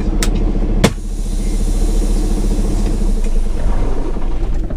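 Truck engine idling at a fuel stop, a steady low rumble close by, with a couple of sharp clanks early on over the constant drone.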